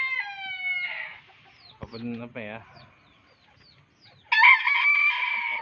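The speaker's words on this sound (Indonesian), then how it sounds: "Ada ayam bantam cocin, ayam kating, ada ayam polan walik, anak polan walik juga." Bantam Cochin and Polish chickens, including a young Polish frizzle and a Polish rooster, give loud clucks and crowing calls with short gaps of quiet, while a person talks briefly in between.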